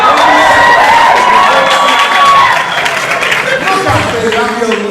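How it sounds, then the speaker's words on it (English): Large audience cheering, whooping and clapping loudly, a dense roar that eases off slightly toward the end, with voices shouting in the crowd. "Get over that round of applause"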